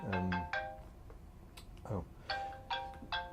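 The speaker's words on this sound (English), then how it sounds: "Wait a minute, my phone is ringing." Mobile phone ringtone playing a short melodic phrase of clear tones, a few bursts separated by brief gaps, moderately loud.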